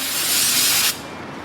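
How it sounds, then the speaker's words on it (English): A steady, bright spray of carburetor cleaner hisses close up for about a second while replacing a Ford F-series front brake caliper, then cuts off abruptly, leaving quiet background noise. "Have some carburetor spray"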